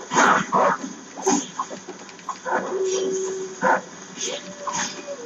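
Attack dogs in the video game Ninja Gaiden II snarl and bark in repeated close bursts, layered over busy game noise.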